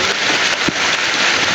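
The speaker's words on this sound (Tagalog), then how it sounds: "Lakas ng ulan." Heavy rain pours steadily as a dense, even hiss with scattered droplet crackles. It stays constant from start to finish, with a soft thump partway through.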